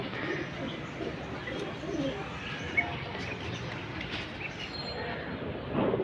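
Pigeons kept in a home coop coo softly and repeatedly at close range over a steady background murmur, with a few faint chirps and a brief knock.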